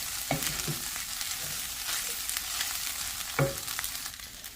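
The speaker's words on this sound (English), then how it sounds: "now I'm just going to move it around, get that rice heated up" Veggie fried rice with mixed vegetables sizzles in a pan while being stirred, a continuous close frying hiss broken by a few distinct scraping clacks of the utensil against the pan.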